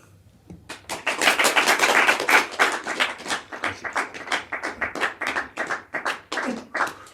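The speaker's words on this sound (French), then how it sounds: "applaudissements polis du public, mais clap-clap" A studio audience gives short, polite applause: a ragged burst of close hand claps that builds quickly, then thins into a steady, moderate patter and stays fairly loud to the end.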